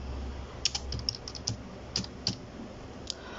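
Keys clicking on a computer keyboard as a name is typed into an online Delhi Police clearance certificate form: a short run of about ten crisp, irregular taps close by, over a quiet room hiss.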